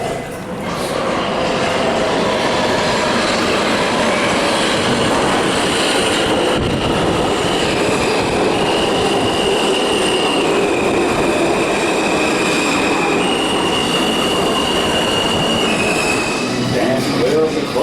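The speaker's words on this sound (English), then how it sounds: "the next one that's coming in is the M train" A New York subway M train pulls into the station with a loud, continuous rumble of wheels on rails and sustained high metallic squeals that shift in pitch as it arrives.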